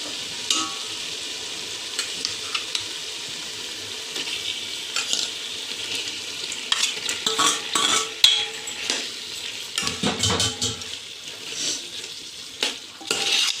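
Prawns cooking in masala in a pan, a bright steady sizzle with bursts of stirring and spatula scrapes growing busier toward the end, close up and without speech.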